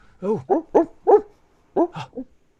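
A performer imitates a dog with a string of voiced barks and yips onstage during a Shakespeare-themed improv comedy show: four quick barks, a short pause, then three more, close and clear.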